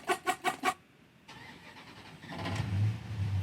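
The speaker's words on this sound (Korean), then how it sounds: "트럭 드라이빙 뭐 이런 것도 있고요." A truck driving sound effect opens with four quick rhythmic pulses, then an engine turns over and settles into a low, growing rumble as the vehicle pulls away, faint overall with no voices.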